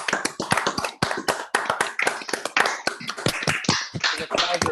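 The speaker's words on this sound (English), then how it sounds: "One more round of applause." Close, crisp hand clapping at a live-streamed blockchain launch event, sharp individual claps from a small group in a quick irregular rhythm, with no talking.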